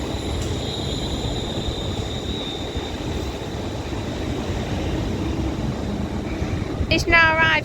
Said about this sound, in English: This is the 14:21 service from Birmingham New Street, formed of a class 350 for London North Western Railway